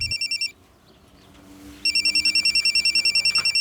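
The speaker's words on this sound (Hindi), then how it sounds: "जब मैं लोडिंग कर रहा था तब अचानक बलराम जी का फ़ोन बजा।" A mobile phone rings with a repeating electronic trill, loud and near, cutting out briefly before the pulsing ring resumes at a steady rhythm.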